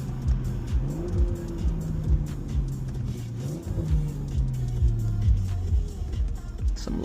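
BMW M340i with an aftermarket Alibaba exhaust accelerating from inside the car, a loud droning engine note climbing through repeated gear pulls, with small crackles among the rising and falling revs and no talk.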